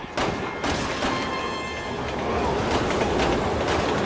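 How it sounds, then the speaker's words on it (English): Train passing in the video game Resident Evil 6, a loud close rumble with rhythmic clickety-clack and thumps building toward the end, with faint talk underneath. "Look out! Train!"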